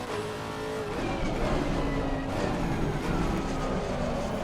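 In a sim racing game on the Nordschleife, a race car's engine drones loudly and continuously while its tyres squeal under hard, locked-up braking, the whine shifting in pitch throughout.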